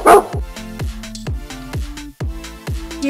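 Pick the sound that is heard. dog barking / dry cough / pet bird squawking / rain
dog barking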